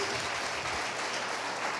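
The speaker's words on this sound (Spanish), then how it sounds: "Denle un aplauso a Dios los que están bendecidos." Church congregation applauding during a sermon, a steady diffuse wash of many hands clapping with some voices mixed in.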